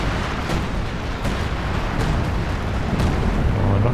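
Artillery time-on-target barrage in Company of Heroes 2, a continuous loud rumble of explosions with several sharp impacts spaced about every three quarters of a second, heavy and close with no talking.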